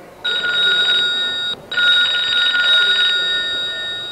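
A telephone bell rings loud and close in two electronic bursts separated by a brief gap, heard at a tech fair with no talk over it.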